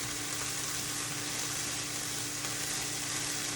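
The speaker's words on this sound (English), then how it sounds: "the red onions, it's okay to let them get a little bit soft in the pan" Red onions sizzle softly in a hot pan, a steady, even frying hiss with a faint low hum beneath and no talking.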